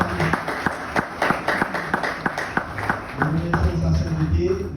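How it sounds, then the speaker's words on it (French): Applause and scattered clapping from an audience at a devotional gathering for a visiting swami in Mauritius, sharp claps repeating through the clip over a steady murmur of voices. "Un grand applaudissement pour sa sainteté"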